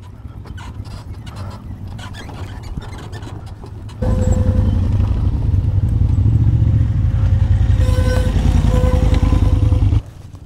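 Royal Enfield Himalayan motorcycles coast down a steep rally descent in Bosnia with engines switched off, giving a loud, continuous rolling rumble and rattle of tyres and chassis that grows heavier midway, then drops back near the end.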